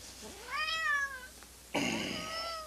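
A house cat growls and yowls in two drawn-out, strained vocal bursts, fairly close and moderately loud, with a short quiet gap between them.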